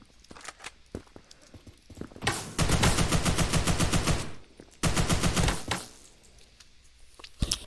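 Semi-automatic gunfire in the browser shooter Krunker.io, with scattered single shots early on, then two long rapid bursts of evenly spaced shots, loud and close, ending in a few more isolated shots.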